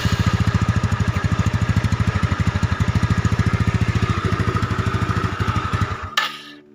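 Yamaha automatic scooter with a seeping block and head, its engine idling with a fast, even, close-up chugging pulse that runs steadily for about six seconds and then cuts off abruptly.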